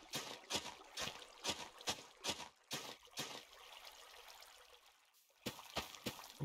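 Water trickling and splashing in Minecraft as a farm plot is being irrigated, heard as a run of short, close splashy bursts with a brief lull before a few more.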